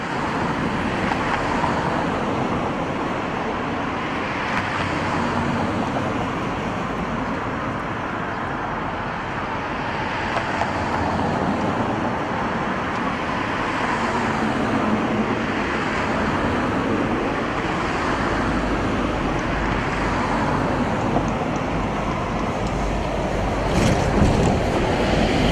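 London double-decker bus 947 running along London Road, Redhill, a steady broad engine and road rumble continuing throughout with passing traffic noise, no voices.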